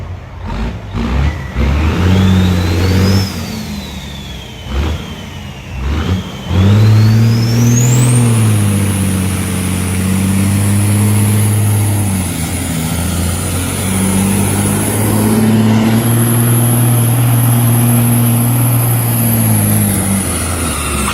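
A Scania truck engine at a truck pull revs hard and close, climbing and dipping in pitch several times before settling into a loud, sustained high-revving drone that holds through a higher gear.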